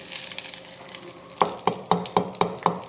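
Hot oil tempering of mustard seeds poured over a mint dish: a crackling sizzle at first, then six sharp, evenly spaced metallic taps ring out close by over the fading fry.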